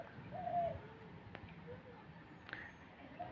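Soft, low cooing of spotted doves, a few mellow calls spread across the clip with a faint background hiss and a couple of brief clicks.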